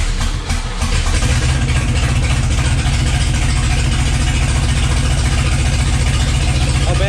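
A 1987 Ford Mustang engine idles after a FiTech EFI start-up, with a loud, close, steady rumble and a slight uneven lope that runs unbroken throughout.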